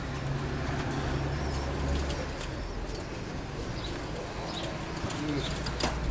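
Pigeons cooing in a loft, soft low coos and occasional chirps over a steady rustling background, fairly close, with a few faint other sounds.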